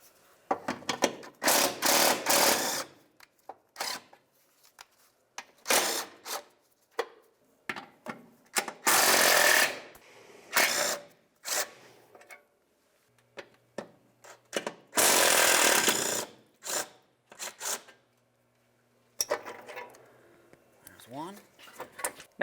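A wrench ratchets 12mm bolts loose from the fuel vapor charcoal canister on a 2006-2012 Toyota RAV4, giving repeated short bursts of clicking and rubbing separated by pauses, with quiet handling noises in between.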